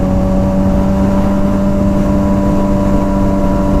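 A Suzuki GSX-R motorcycle cruises at highway speed, giving a steady, loud engine drone with constant wind rush and no change in pitch.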